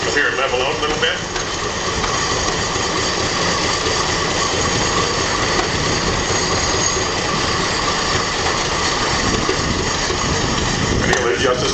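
An antique engine runs at a threshing bee in Crosby, North Dakota, after its spark is advanced, giving a steady, loud mechanical rumble with an even, continuous churn and no pauses.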